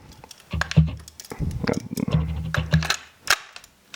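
Sharp metallic clicks and snaps of a conversion kit being pinned and reinstalled in an MWS rifle, with several close, irregular taps and a final crisp click, no talking.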